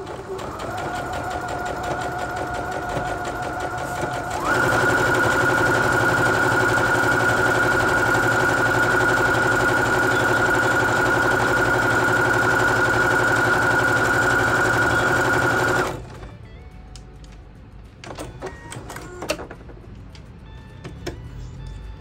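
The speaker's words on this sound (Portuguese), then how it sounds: "Agora eu vou aumentar a velocidade da máquina" A Singer HD sewing machine stitches an invisible hem, first at a moderate whirr, then speeding up into a loud, steady high-pitched mechanical hum for about eleven seconds before stopping, followed by quieter handling clicks.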